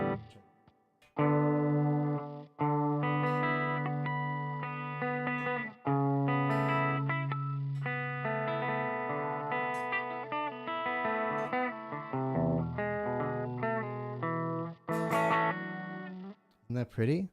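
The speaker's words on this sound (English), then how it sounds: "It's too much distortion." An electric guitar with heavy distortion plays sustained chords and ringing harmonics, close and loud, with a few abrupt cuts and a short squealing burst near the end.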